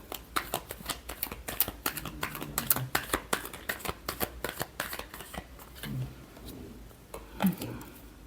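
A tarot deck is shuffled by hand in quick bursts of crisp, close card riffles and flicks that slow briefly near the end, with faint talk underneath.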